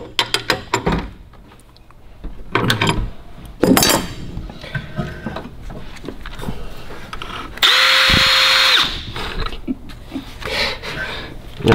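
Power drill with a bit in a garage workshop, heard in short bursts amid metallic clatter and handling noise, ending in a loud sustained whir of several seconds.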